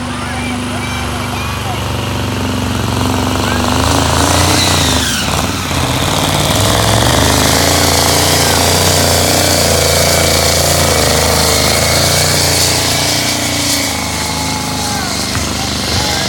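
A 1957 Jeep cabover truck engine drones loudly and continuously during a truck-pull event, with a rough, rumbling roar throughout and voices talking over it.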